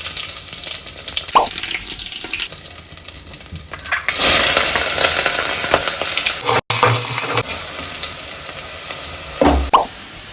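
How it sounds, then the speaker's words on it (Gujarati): Spices crackle and sizzle in hot oil for a tempering in a home kitchen, a loud, steady hiss that swells midway, with short clatters of utensils and a brief break. "હવે આને આપણે વઘાર કરશું."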